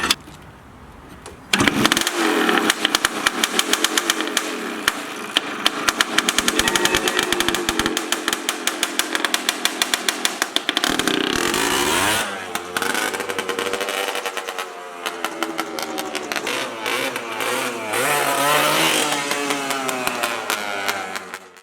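A Suzuki 250cc two-stroke engine swapped into a Honda ATC three-wheeler, being ridden: the engine kicks in loudly and keeps up a raspy, buzzing drone, with revs rising and falling as the rider works the throttle and clutch.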